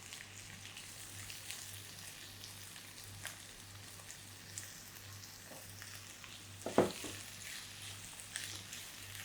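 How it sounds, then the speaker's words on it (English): Chopped red onions and garlic sizzle gently in a hot pan, a soft continuous crackle with a few louder spatters and stirring clinks partway through, quiet and close with no talking. "Now the onions, you have to sweat the onions down"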